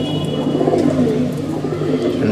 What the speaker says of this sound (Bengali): এদিকে আপনারা যে কটা কবুতর দেখতে পাচ্ছেন